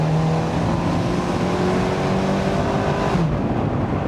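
A 2017 Abarth 124 Spider with a 1.4-liter turbocharged 170 hp engine revs hard and loud close up, a sustained throaty drone holding steady before dropping off near the end.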